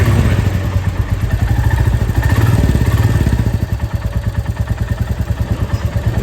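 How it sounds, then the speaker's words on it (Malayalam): A 2025 Royal Enfield Classic 350 single-cylinder engine idles close by, a steady loud thumping pulse with mechanical clatter running throughout, without talk. "ആ ക്ലാസിക് ആയിട്ടുള്ള ബുള്ളറ്റിൻ്റെ ആ എൻജിൻ സൗണ്ടാണ് എനിക്ക് കേട്ടുകൊണ്ടിരിക്കുന്നത്"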